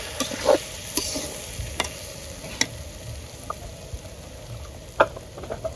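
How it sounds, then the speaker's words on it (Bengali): Water added to frying rice and fish for fish polao sets off a steady sizzle, broken by clinks and scrapes of a spoon stirring in the pan. "এখন আমি অল্প পরিমাণ পানি দিয়ে দিব।"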